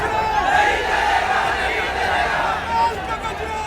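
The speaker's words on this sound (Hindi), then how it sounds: "प्रदर्शन और नारेबाजी।" A street protest crowd in Pithampur, near Indore, chants slogans in loud unison, with massed yelling and a rumbling crowd roar throughout a short burst.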